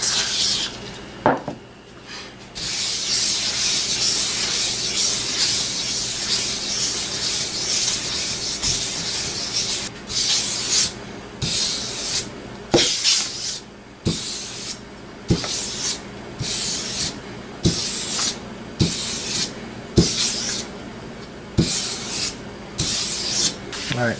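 Sandpaper rubbing steadily across the edge of a rusty Rockaway axe head in crisscross strokes, a loud continuous rasping broken by regular short pauses and repeated strokes, close up with no talking.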